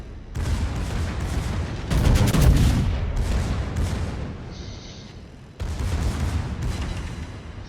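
Naval gunfire from warships in a sea battle game, with heavy booming salvos rolling into long, rumbling tails, one big blast then further thunderous volleys after a short lull.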